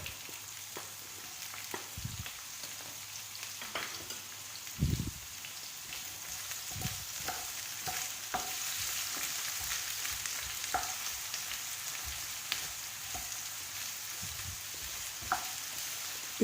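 Two large chopped onions hit hot oil with a handful of cashews for paneer mattar, giving a soft continuous sizzle and crackle, with several dull knocks and scrapes of stirring.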